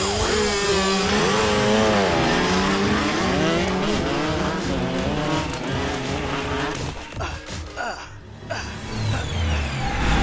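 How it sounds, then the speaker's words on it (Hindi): A motorbike ridden recklessly on a road in an action film roars with revving engine and tire screeches, loud and dense, mixed with shouting voices and a sudden break near the end. "किस तरह बाइक चला रहा है?"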